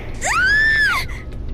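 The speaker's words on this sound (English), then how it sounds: "Why are you yelling all of a sudden?" A character in the video game Danganronpa: Trigger Happy Havoc lets out one loud, high scream that rises, holds and then falls away in about a second, heard alone.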